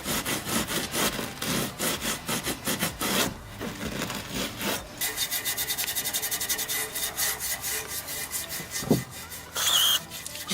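Scrubbing carbon-dirty chrome exhaust tips on a Mercedes S63 AMG with only water, a steady run of rapid back-and-forth rubbing strokes, close and fairly loud, with a brief louder scrape near the end.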